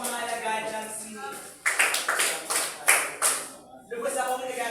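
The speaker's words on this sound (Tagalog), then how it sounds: "Bigyan natin ng limang palakpak Pangkat tatlo o mga alagad ng sini" A class in a demonstration teaching lesson claps in unison, a run of quick sharp group claps following a stretch of talking, close and fairly loud, with voices around them.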